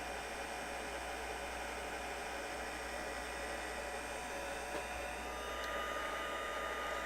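Heat embossing tool blowing steadily onto embossing powder during a stamping craft project, a constant close whooshing hiss that runs unbroken from start to finish with no talk.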